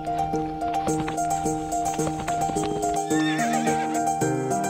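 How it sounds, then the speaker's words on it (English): In the video game To the Moon, a horse whinnies and its hooves clip-clop over a bright, steady game music score, the neigh rising near the end. "It's not a very good horse."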